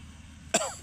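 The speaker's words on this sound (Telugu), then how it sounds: "చలికి దగ్గు వచ్చేస్తుంది" A single short, sharp cough in the cold out by the farm fields, bursting out near the end after a quiet stretch of faint background.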